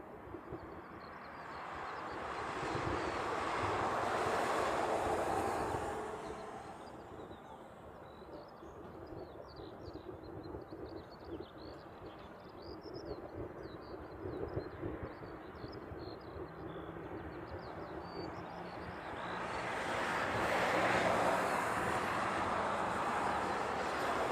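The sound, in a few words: Boeing 747 jet taxiing at Honolulu airport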